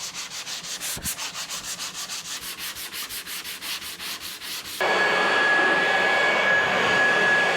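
Steady back-and-forth rasping of a small hand sanding block over body filler on a car's dented panel, close and rhythmic, then abruptly giving way to a louder continuous broadband hiss with a thin steady whine.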